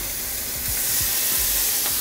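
Water hits a hot pan holding a smashed burger topped with cheese and breaks into loud, steady sizzling and hissing steam, heard close with no talking.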